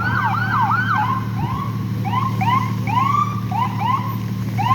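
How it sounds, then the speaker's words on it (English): A wailing emergency vehicle siren on the road, rising and falling in repeated sweeps, loud and steady over a low engine rumble throughout. "A lot of people don't know when there's a siren behind"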